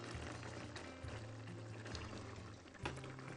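Water poured into a pot of rice cooked with zucchini, dill and lemon, a steady close splashing pour running throughout with a brief louder surge near the end.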